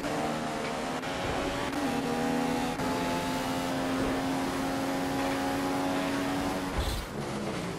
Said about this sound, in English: DC sounds like he's using gears